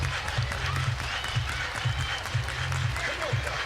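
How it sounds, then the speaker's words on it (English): At a college softball game between Alabama and Duke, the stadium crowd claps in a steady rhythm about twice a second, with a low rhythmic thump beneath and crowd noise mixed in. "Everybody clap your hands."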